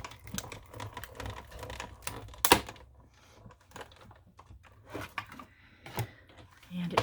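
A sheet of cardstock with a stitched-edge die and top plate is run through a manual die-cutting machine, giving a series of close ratcheting clicks and thumps with a louder clack partway through.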